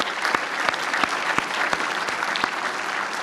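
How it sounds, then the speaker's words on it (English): An audience at a space science symposium applauds the support team, a steady dense patter of many hands clapping with a few sharper claps standing out, continuous and moderately loud throughout. "I'd appreciate if everybody give them a round of applause for all their efforts"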